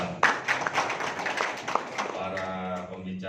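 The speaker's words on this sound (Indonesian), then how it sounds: "Wah, tepuk tangan nih buat Pak Kepala Sekolah." Scattered hand clapping from an audience at a DMI gathering in Semarang, honoring a school principal: a brief patter of claps mixed with a voice talking over it.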